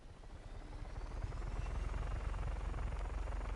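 A large helicopter in the game Just Cause 3 runs with a steady low rotor thump and engine drone that swells slightly louder and stays continuous, with no talking.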